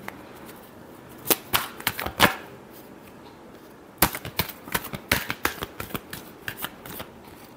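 Tarot cards are shuffled by hand in two bursts of quick, crisp riffling slaps, close and fairly quiet, with a pause in between and no talking.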